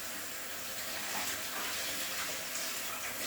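Sushi rice being washed in water in a kitchen, a steady broadband wash of running and swishing water, close and even throughout with no distinct splashes and no talking.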